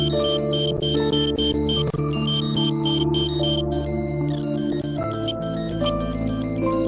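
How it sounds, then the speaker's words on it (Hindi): A mobile phone rings with an incoming call, its melodic ringtone looping loudly and continuously over a quiet room tone in a Turkish drama scene. "किसकी कॉल आ रही है?"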